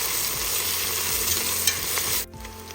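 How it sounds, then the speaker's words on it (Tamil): Onions with ginger garlic paste sauté in a pan for prawn biryani, giving a steady, close sizzle and frying hiss with light stirring, which cuts off abruptly near the end. "வதங்கிடுச்சு வெங்காயம்."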